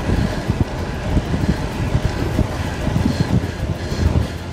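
Steady loud wind roar from riding a road bike into a headwind, a dense continuous rush of rumble and buffeting, with no voice heard.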